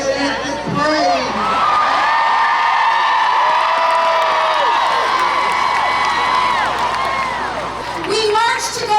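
A large crowd at the Women's March on Washington roars and cheers close by, steady and loud throughout, with shouts, whoops and voices layered over the din.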